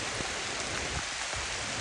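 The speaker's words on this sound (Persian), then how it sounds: "این بارون رو ببین" Steady, dense rain hiss fills the whole stretch, an even wash of falling water with no voices or breaks.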